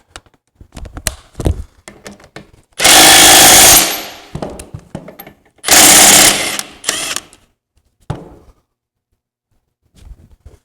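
A power tool runs at full power during an upholstery job, with two loud sustained bursts of about a second each between quieter clatter and handling sounds.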